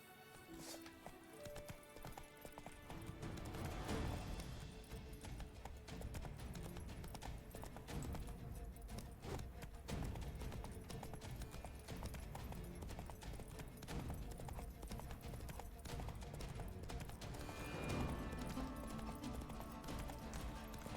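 Roach, the horse in the Witcher video game, gallops in a continuous, fast clip-clop of hooves that runs through the whole stretch, fairly loud and close, with a brief whinny.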